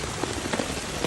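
Steady rain falls during an atmospheric river near a rising creek, a dense, even hiss of drops hitting surfaces, continuous and close, with no voices.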